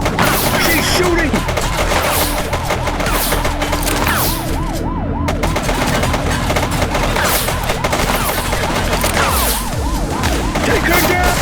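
Bursts of gunfire crackle through a loud video game shootout in a police game, layered over wailing sirens and dense action noise that continues throughout.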